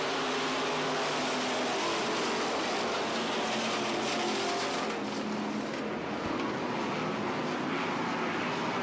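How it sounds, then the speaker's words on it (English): Hobby stock race cars roar at full throttle at the start of a green-flag feature race on a dirt track, a dense, continuous engine drone that stays loud throughout with no talking. "Strap in, hold on, it's time for green flag racing."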